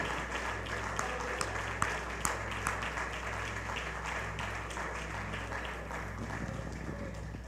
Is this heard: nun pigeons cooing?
no